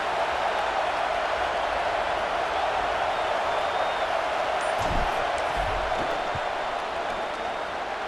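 Stadium crowd noise during a football field goal attempt, a steady broad roar that holds loud and continuous throughout without a break.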